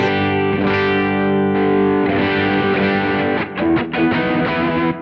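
Electric guitar with a mild crunchy overdrive from a Kemper overdrive stomp strumming chords, loud and close, with a few quick muted strums toward the end.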